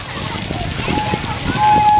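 Water splashes and sloshes steadily on a water ride at a theme park, a close, continuous wash of spray with a few faint voices mixed in.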